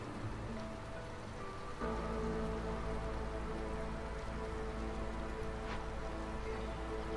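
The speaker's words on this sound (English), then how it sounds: "It's getting chewed up by acid rain." Acid rain hisses steadily in the video game Against the Storm, a dense continuous patter over a low ambient hum with soft game tones, growing slightly louder partway through and staying unbroken, with no voices.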